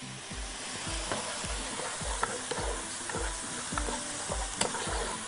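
Rice fries in a pan with a steady, close sizzle, while a utensil scrapes and stirs in a regular rhythm of soft knocks roughly twice a second.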